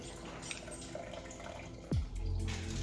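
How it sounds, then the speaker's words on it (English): Brisket jus pours into a defatter, a soft liquid splash and trickle that starts with a sudden gush near the end, close and moderately loud. "pour it into a defatter"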